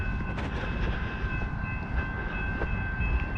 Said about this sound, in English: Here comes the train from the south, from Camden, headed for Trenton.